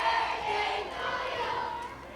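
A crowd of fans at a mall show yells and cheers in a brief, faint burst with a lively, shouting quality.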